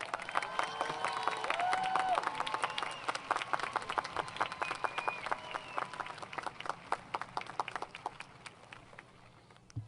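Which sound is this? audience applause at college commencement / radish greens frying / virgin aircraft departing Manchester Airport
audience applause at college commencement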